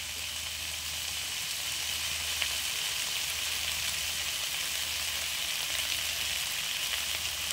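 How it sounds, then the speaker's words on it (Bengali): Potato pieces frying in hot oil in a pan make a steady, close sizzle and crackle that holds evenly throughout, with no talking. "আলুটাকে আমি ভেজে নেব কিছুক্ষণ"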